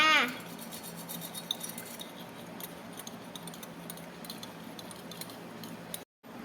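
An egg mixed in a cup with honey and jam, the utensil giving close, quick clinks and scraping taps against the cup in a busy rhythm, with no talk.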